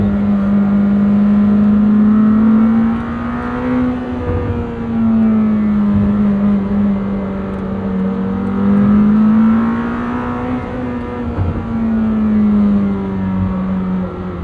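A Lamborghini Temerario V8 engine held in second gear drones loudly and steadily, its pitch rising and falling in slow waves as the revs swell and ease, with no talk over it.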